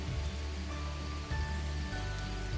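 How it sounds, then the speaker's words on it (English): Rain falls steadily outdoors, a soft, even hiss of drops on surfaces with no voices, continuous for the whole short stretch. "So one problem is it is raining."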